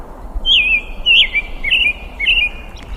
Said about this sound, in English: flycatcher, and this here robin